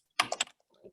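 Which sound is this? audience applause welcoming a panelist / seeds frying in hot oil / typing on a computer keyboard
typing on a computer keyboard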